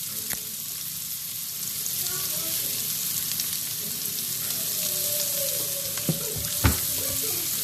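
Onion frying in olive oil in a pan, a steady soft sizzle running throughout with faint kitchen clatter and a couple of sharp clinks near the end.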